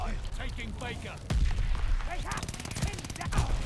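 Rapid automatic gunfire in an online Call of Duty Vanguard match, with dense crackling bursts that grow heavier toward the end and ring out over busy game noise.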